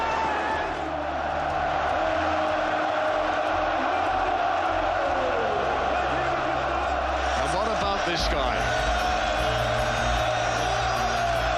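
A large stadium crowd at a Manchester City trophy celebration roars and cheers for Norwegian striker Erling Haaland on the podium, a broad sustained swell under a commentator's voice.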